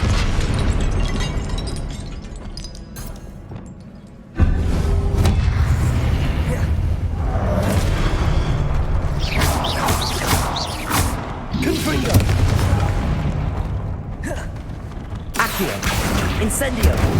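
Fire spells burst in a Hogwarts Legacy battle, loud booming blasts and crackling impacts recurring across the fight, with a heavy surge partway through and voices calling out spell names among the clamour.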